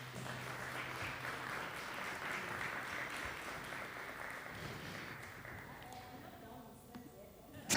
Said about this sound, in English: ladies and gentlemen, let's please give her a round of applause